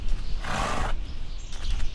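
A horse neighs in the Minecraft video game, a loud whinny of about half a second over a steady background of game sound, followed by fainter tonal noises.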